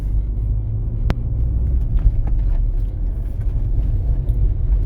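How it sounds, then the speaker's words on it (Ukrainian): A car cruising in third gear along a city street during a driving exam route in Rivne, Ukraine, giving a steady low engine and road rumble with a faint click near the start, no talk. "Зараз я їду на третій передачі."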